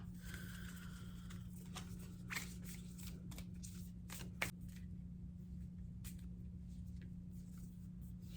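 A deck of tarot cards being shuffled by hand, with repeated soft riffling and slapping bursts over a steady low electrical hum, close and fairly quiet throughout.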